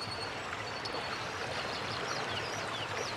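Water in a small stream flows and trickles in a continuous, gentle wash, fairly faint, with a few soft bird chirps in the background.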